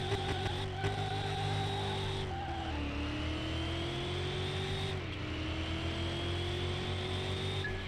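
A 2100-horsepower Hammerdal Strale S drag car in Car Mechanic Simulator 2021 screams down a quarter-mile strip, its engine pitch climbing through quick upshifts with brief drops between gears, loud and unbroken.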